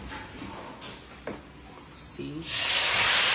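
Liver and chili drop into a hot frying pan and burst into a loud, rising sizzle that swells and holds steady, with a voice speaking briefly just before.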